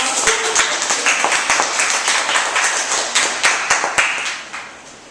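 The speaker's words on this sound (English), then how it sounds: "Let's give Sahar a big round of applause" A conference audience claps for a speaker at a women's leadership event, a dense patter of hands with sharp individual claps standing out, steady and close for several seconds.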